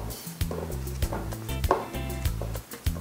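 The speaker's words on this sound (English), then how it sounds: "the whole idea is to cut the plantain into small pieces" Knife chopping unripe plantain into small pieces, five sharp, evenly spaced cuts roughly every half second, close and clear, with a low hum underneath.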